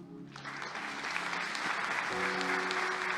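A church congregation applauds steadily during a worship service, a dense, fairly faint wash of clapping that carries on throughout, with some talk mixed underneath.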